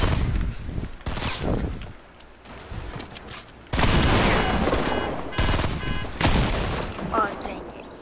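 Bursts of gunfire from the video game Fortnite, loud volleys and rapid shots in several clusters, including sniper fire, with a person talking at times.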